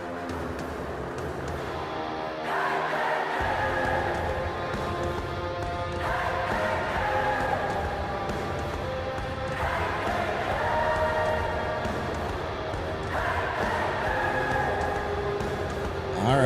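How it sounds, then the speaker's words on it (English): A large wrestling pay-per-view crowd roars and cheers continuously in waves, the noise swelling and chanting throughout, loud and sustained with no clear voices standing out. "the crowd going crazy for this"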